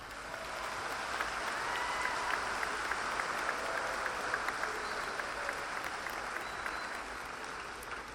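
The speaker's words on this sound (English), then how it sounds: "a round of applause for a job well done" Sustained audience applause fills a Navarro College commencement ceremony in Ellis County, a steady even wash of many hands clapping for the full length, moderately distant.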